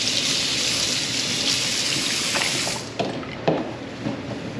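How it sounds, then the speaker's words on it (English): Water runs from a kitchen tap while an ingredient is rinsed off during cooking, a steady close broadband rush for about three seconds before it cuts off, leaving a few drips and light clatters. "All right, so we're just gonna rinse this off"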